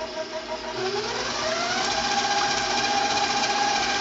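KitchenAid stand mixer beating eggs, its motor starting up and settling into a steady close whirring hum with a rising pitch as it comes to speed, no speech.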